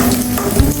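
Chopped onion and garlic sizzle steadily in a hot pan at home, a close, continuous frying hiss with a small stir or clatter partway through.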